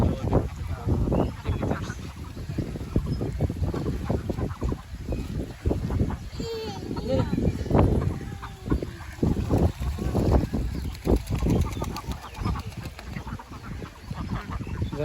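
Khaki Campbell ducks crowded on a duck farm in Ullapara, Sirajganj, a constant clamour of many quacks and honks close by, busy and uneven throughout.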